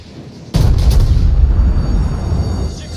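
Warship guns fire in a naval battle game, a sudden loud blast with a heavy low boom that rolls on and stays dense for over two seconds before easing, with no voices over it.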